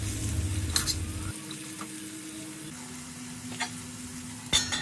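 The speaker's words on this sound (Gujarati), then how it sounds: "આ બધું નાખીને સરસ રીતે મિક્સ કરતું જવું અને સ્લો ગેસની ફ્લેમ પર તેને સાંતળવાનું છે" Potato poha is stirred and sautéed in a pan over a low gas flame: soft continuous sizzling with a few spoon scrapes and stirring knocks, close and fairly quiet.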